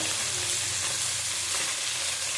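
Fish fries in a pan of oil with chilli powder, giving a dense, continuous close sizzle that holds at an even loudness throughout, with no talking.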